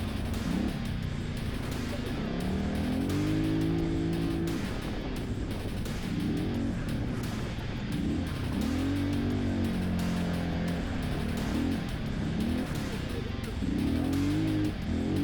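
A UTV engine on a dirt race track at MidEast Racing 2022 rises and falls through repeated revving surges, throttling up and easing off in a fairly continuous run.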